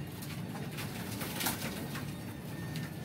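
Flying pigeons coo in a loft, with soft repeated throaty calls and a slightly louder burst near the middle over constant background noise.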